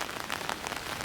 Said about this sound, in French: Moi j'aime bien la pluie en vrai